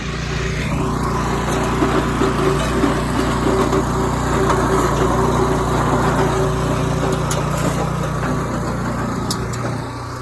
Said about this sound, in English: So we're hitting it with the tiller to break it all up